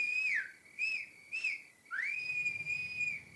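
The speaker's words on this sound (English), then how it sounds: "whistling pitifully from the kitchen door" A person whistles a slow, wavering tune of a few drawn-out notes, the last one long and sliding, with no talking around it.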